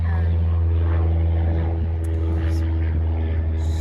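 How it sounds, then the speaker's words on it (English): A propeller airplane passes low overhead near a small general-aviation airport, its engine drone loud and steady with a strong low hum throughout and no talking over it. "there goes the airplane"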